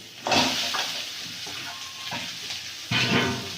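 Green chilli, bay leaf and onion fry in a hot pan, a steady bright sizzle with surges at the start and again near the end as the pan is stirred, close and fairly loud, with no talking.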